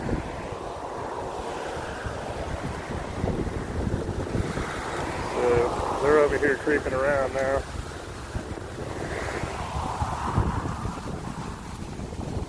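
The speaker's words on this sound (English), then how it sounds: "It's crazy as hell out here with the wind today" Strong gusty wind buffets a microphone outdoors on a property in Cape Coral, Florida, a steady broadband roar and rumble throughout, with someone talking over it.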